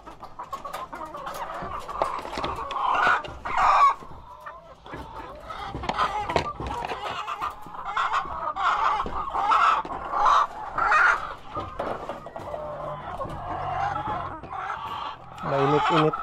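Farm hens cluck steadily and close by around their eggs, with repeated clucking calls throughout and a person's talk woven in among them.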